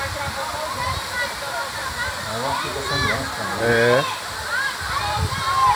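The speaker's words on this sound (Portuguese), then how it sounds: "a queda d'água aí como tá massa" A waterfall at Vale do Vento in Maranguape, Ceará, gives a steady rushing wash of falling water, close and constant, while people talk over it.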